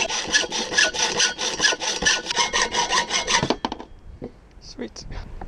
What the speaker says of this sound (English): I'm just going to have to pretty much freehand this